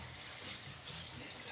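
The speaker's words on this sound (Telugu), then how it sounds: "కర్రీకి సరిపడగా వాటర్ అనేది యాడ్ చేస్తున్నాను." Water poured into a pan of frying dry prawns and gongura curry, a steady close rushing pour with no talk.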